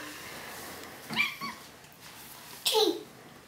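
A cat gives two short meows about a second and a half apart, fairly close and moderately loud against a quiet room.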